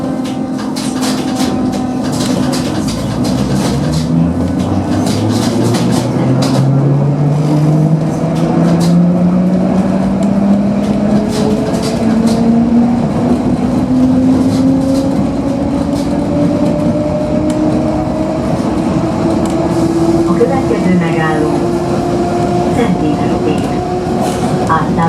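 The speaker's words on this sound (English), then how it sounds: "the relays on these trains, they go really loud and you can hear each parallel resistor coming in as it increases the power to the motors" An old Budapest suburban electric train accelerates, its motor whine climbing steadily in pitch over a constant rumble while faint relay clicks sound as power is stepped up; a voice speaks briefly over it.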